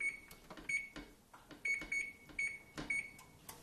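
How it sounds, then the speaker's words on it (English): A kitchen oven being switched on to 350 degrees for baking a cheesecake crust, giving a series of short, bright electronic beeps in irregular clusters, moderately close, with faint clicks between them. "I'm gonna go ahead and turn my oven on"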